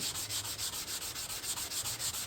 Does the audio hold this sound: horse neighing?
no